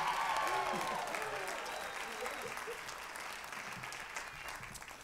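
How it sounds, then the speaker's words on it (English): Audience applause at a live concert by a soul band with saxophone, steady clapping that gradually fades, with a voice speaking faintly over it. "They're not even clapping for you, Keith."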